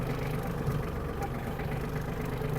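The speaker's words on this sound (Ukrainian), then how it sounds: "Дамо двигуну трішки прогрітись" An Iseki TG-27 Japanese mini tractor's engine idles while warming up, giving a steady, close, even rumble with no pauses and no talking.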